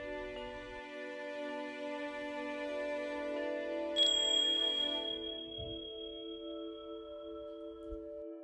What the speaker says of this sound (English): As I sound the bell, just become aware of the surroundings